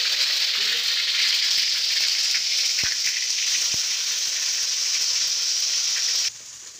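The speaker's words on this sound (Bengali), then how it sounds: "এবারে এর মধ্যে তৈরি করে রাখা পেস্টটা ঢেলে দিলাম।" Spice paste poured into hot oil already tempered with cumin seeds and a dried red chilli, giving a loud, steady sizzle with a couple of sharp clicks partway through. The frying stops abruptly near the end.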